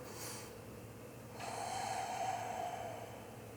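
One slow breath is drawn through the nose during a yoga tabletop balance pose, a short sniff followed by a longer, soft airy inhale, close and quiet against a faint background hum.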